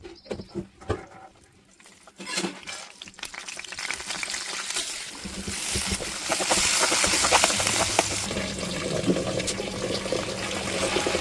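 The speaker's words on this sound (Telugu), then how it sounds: "ఇప్పుడు దీన్ని క్లియర్గా వాష్ చేసుకుంటాను." Gongura and fenugreek leaves being washed in water: sparse handling taps, then running and sloshing water with splashing and patter that grows fuller and louder, close by and continuous, with no talk.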